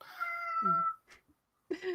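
A pet cat meows close up, one drawn-out call followed by a short chirp and a second meow, with quiet gaps in between.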